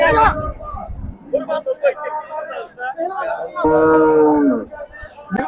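A cow gives one loud, drawn-out moo close by, amid the busy chatter and voices of a crowded livestock market.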